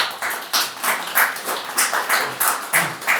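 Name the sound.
audience applauding at a conference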